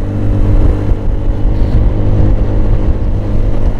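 A Honda Forza 300 scooter accelerates under the rider, its engine a loud, steady droning hum with wind rush, sustained evenly throughout without speech.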